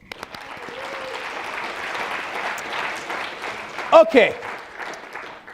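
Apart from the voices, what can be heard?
audience hand claps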